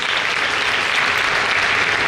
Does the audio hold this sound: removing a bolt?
no